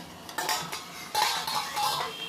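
Metal lid set onto a kadai of potol and potato curry, a few close clattering clinks and scrapes of cookware in a quiet kitchen.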